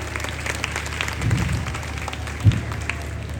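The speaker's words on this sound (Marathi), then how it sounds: "एकदा जोरदार टाळ्या आपल्या लाडक्या दादांसाठी" An audience at a stage event claps for Vijay Dada in a short burst of applause, with a louder peak near the middle, heard without speech.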